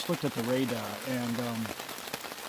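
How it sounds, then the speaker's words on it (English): Steady rain patters on a surface on the Appalachian Trail while a voice speaks briefly in the foreground, with scattered drips and taps near the end. "it looks like it's going to keep raining for at least another hour"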